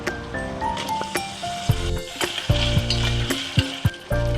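Green chillies, curry leaves and cut potatoes sizzle in hot oil for tomato rice, with stirring and occasional soft thuds from the pan. The frying sounds continuously over faint background music.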